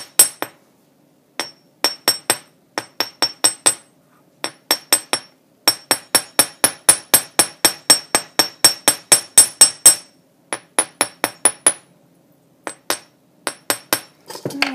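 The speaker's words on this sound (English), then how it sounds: "you hammer down the little section that you folded over" Sharp metallic hammer strikes on sterling silver wire earring backs ring out in quick bursts of several blows, pausing between groups, close and bright with no talking.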